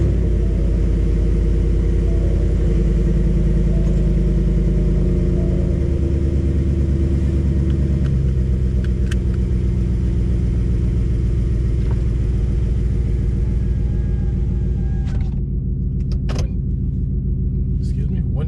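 A 2018 Ford F-150 with an MBRP aftermarket exhaust idles steadily, heard from inside the cab with the windows closed: a deep, constant low drone that fills the whole stretch, with muffled voices at times.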